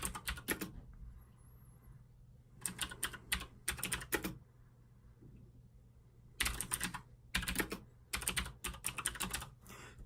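Bursts of close computer-keyboard typing at a Linux command line, quick clattering runs of keystrokes separated by short pauses, with no talk.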